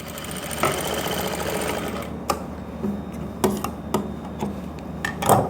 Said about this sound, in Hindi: थोड़ा सी दूरी पर एक पैर की सिलाई जिसको बोलते हैं वो सिलाई को आप लगा सकते हो।